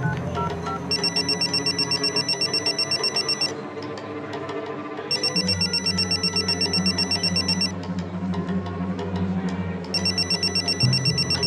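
A telephone rings in repeated bursts, three ring cycles separated by short pauses, steady and moderately loud over a low background hum, with no one picking up.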